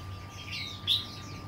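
A caged songbird gives a short, faint chirp over a quiet background hum, a single bright call standing out briefly near the middle.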